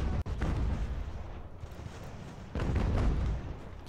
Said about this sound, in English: Especially with all that artillery firing right into them.